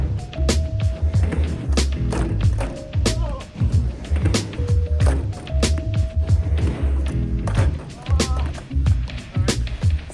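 A skateboard rolls and clacks on a wet ramp during a fakie big flip attempt, with repeated sharp board impacts and wheel rumble and a person talking over it.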